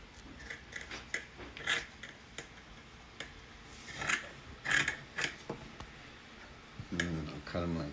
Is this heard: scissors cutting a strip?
yes